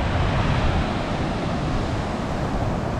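Rough sea waves wash against a coastline thick with seaweed, a steady, loud broadband roar of surf mixed with wind buffeting the microphone, continuous for the whole stretch with no voices.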